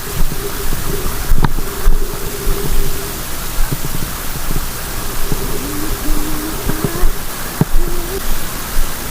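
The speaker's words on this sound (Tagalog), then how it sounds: "Kinuong ng malalaking alon" Big ocean waves wash and roar continuously around a small fishing boat, mixed with gusting wind on the microphone, a low engine hum and occasional voices.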